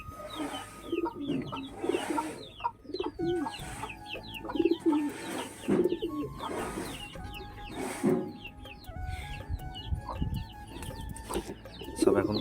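Pigeons at a loft coo and cluck repeatedly while feeding, a close, busy chorus of overlapping calls in irregular bursts, with some rustling and low background noise beneath.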